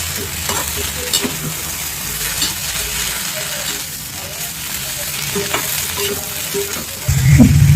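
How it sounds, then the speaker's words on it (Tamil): Fresh curry leaves sautéing in hot oil in a pan, a steady loud sizzle with occasional stirring scrapes and clinks throughout, growing louder and harsher near the end. "பெரிய சேர்த்து வதக்கலாம். இது நல்லா வதங்கணும்."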